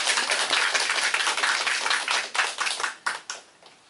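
A church congregation at a Taiwanese-language Sunday thanksgiving service claps in welcome: dense, steady applause from many hands that thins into a few scattered claps and fades near the end, with no talk.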